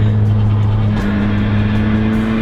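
A turbocharged Honda Fit drives a mountain road, its engine a steady loud drone with a low hum that rises partway through, heard from inside the car with no talk.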